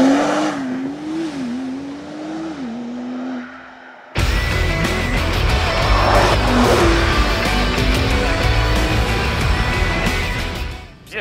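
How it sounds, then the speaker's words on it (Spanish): A 2021 Porsche 911 Turbo S launches hard, its engine note climbing through the gears before a sudden jump to a loud, full roar of engine and road noise heard from inside the car. "Es alucinante la patada que produce, que provoca este Porsche 911."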